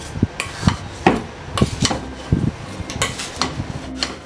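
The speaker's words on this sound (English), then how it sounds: "Go ahead and give this a stir before we add any liquid." A utensil stirs sugar and cherry Kool-Aid powder in a bowl, making irregular scraping taps and gritty clinks against the sides in an uneven rhythm, close and moderately loud with no voices.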